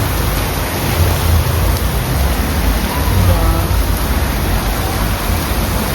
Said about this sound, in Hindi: क्या बढ़िया बारिश है।